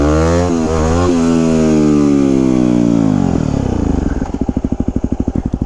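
A Yamaha WR250X motorcycle engine revs high and loud during wheelies, holding a rising whine before dropping into a choppy, pulsing idle near the end.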